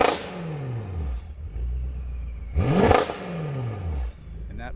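Light revs from a 850 HP twin-turbo BMW M6 fitted with an Akrapovic exhaust: two rising-and-falling engine blips with a throaty rumble, the second sharper and louder, with pops trailing off between them.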